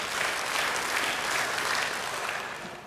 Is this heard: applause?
yes